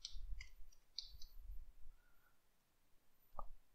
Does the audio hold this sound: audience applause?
no